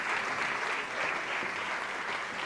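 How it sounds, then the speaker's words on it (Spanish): An awards-gala audience at the CRIS 2021 prizes applauding Luis Álvarez Ballina, steady dense clapping from a large room that holds at an even level throughout. "Un aplauso para él."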